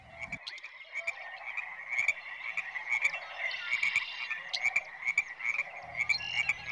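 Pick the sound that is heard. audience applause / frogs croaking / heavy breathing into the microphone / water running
frogs croaking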